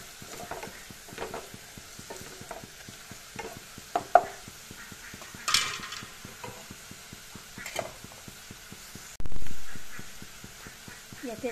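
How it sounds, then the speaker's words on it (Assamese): Spoon scraping and stirring turmeric and chili powder in a pan for a small-fish curry, with intermittent close taps and scrapes and one louder sizzling burst near the end. "এইখিনি অলপ লৰাই লম।"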